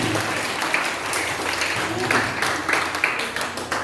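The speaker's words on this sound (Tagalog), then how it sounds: "Yung naniniwala, pumalakpak ng malakas sa ating Panginoon." Church congregation clapping loudly in praise during a worship service, dense sustained applause with sharper individual claps standing out toward the end, over a low background hum.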